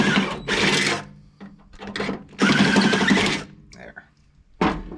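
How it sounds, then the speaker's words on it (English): Drilling on an REO F20 truck: several loud, dense whirring bursts of roughly a second each, separated by quieter gaps, close to the microphone. "I think that one's going to need another little bit of drilling too."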